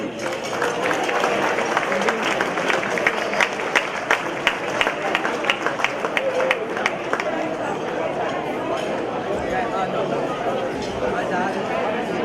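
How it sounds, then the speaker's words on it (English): Audience at a charity gala breaks into applause, a dense run of many hands clapping that fades over several seconds amid crowd chatter. "please, everybody, a warm round of applause for Elliot Lifson"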